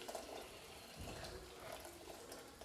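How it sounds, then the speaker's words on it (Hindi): Hot water pours quietly and continuously over soybeans in a kitchen, a faint soft splashing stream with no talking. "इसको पानी को मैं डाल दूँगी सोयाबीन के अंदर ताकि ये फूल जाए।"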